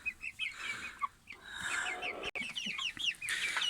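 A flock of chickens, hens and chicks, clucking and chirping busily outdoors while pecking at summer food, many overlapping calls close by and fairly loud throughout, with no talking.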